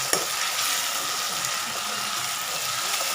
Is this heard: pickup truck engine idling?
no